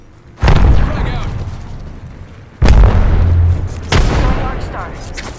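Arcstar grenades thrown and exploding in a first-person shooter, three loud booming blasts spaced a couple of seconds apart, each with a lingering rumble, while a voice calls out over the action.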